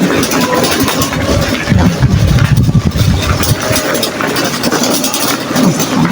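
A vehicle engine drones loudly and continuously while travelling on a cool day, a close, steady rumble with slight rises and falls in strength.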